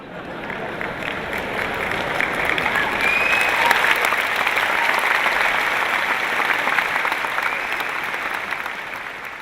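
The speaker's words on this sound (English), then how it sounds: "The sons are clapping" A large seminar audience at a Sandeep Maheshwari session bursts into sustained applause, a dense wash of clapping that stays loud and even throughout.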